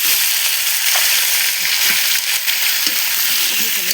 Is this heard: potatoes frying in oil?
yes